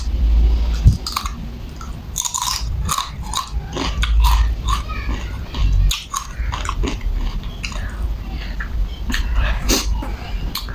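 Close, loud crunchy biting and chewing of fried latiao, a spicy Chinese gluten strip snack, with irregular crisp crunches continuing throughout.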